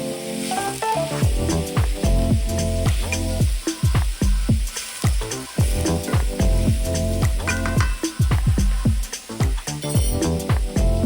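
Organic ground beef browning in a pan with a little oil, a loud steady sizzle and crackle with repeated scraping stirs throughout, close and continuous.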